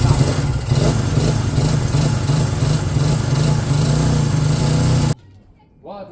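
A Honda CB200 motorcycle engine idles loudly and steadily nearby for about five seconds before cutting off abruptly, followed by a brief voice.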